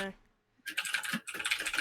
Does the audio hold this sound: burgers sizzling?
no